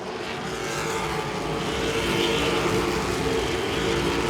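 Late model stock cars racing at Langley Speedway, including a Chevrolet, make a steady, loud engine roar, a dense pack of motors droning continuously without breaks.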